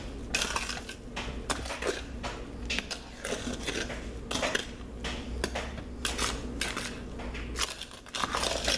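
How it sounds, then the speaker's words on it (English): Sand stirred into a thick soap mixture in a crock pot, giving repeated gritty scraping and clinking strokes of a spoon against the pot in a steady uneven rhythm, close and fairly loud. "you really have to dig down now and dig around into the crevices of your crock pot"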